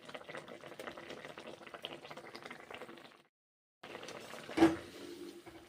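Fried tilapia pieces bubble and sizzle in curry in a wok, a busy crackling simmer that stops briefly, then resumes with one sharper splash, close and fairly quiet, with no talk.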